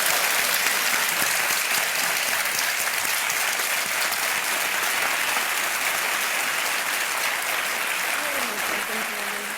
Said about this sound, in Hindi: एक बार फिर तालियों के साथ इनका अभिनंदन।